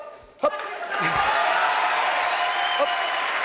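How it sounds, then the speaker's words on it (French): Studio audience applauding a young man on a French radio-television variety show, a sharp knock then broad, steady clapping that swells and holds loud throughout. "Applaudissements pour ce jeune homme, bravo."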